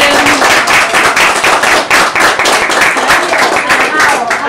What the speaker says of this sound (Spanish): Un aplauso a Belén.